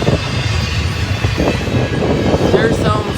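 A freight train hauling CSX intermodal trailers rolls past on a Union Pacific line, a loud continuous rumble with clattering wheels and faint squeals near the end, while people talk briefly over it.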